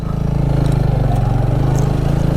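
Quad bike engine idling close by at Nagarkot, a steady loud low throb with even rapid pulsing that holds throughout with no talk.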